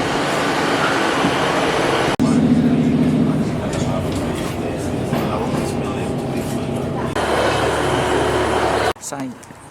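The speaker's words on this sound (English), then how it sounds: "Here comes a little train." Small passenger train arriving at a quaint rural station on a line toward Okehampton, a continuous rumble and hum of the approaching train with abrupt shifts in the sound, heard from nearby on the platform.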